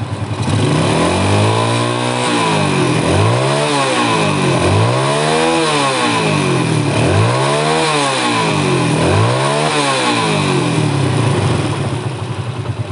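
A motorcycle engine is revved with the throttle during an electrical check, rising and falling in about five repeated rev cycles over a steady idle, loud and close with no talking.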